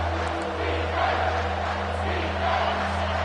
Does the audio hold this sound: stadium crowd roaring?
yes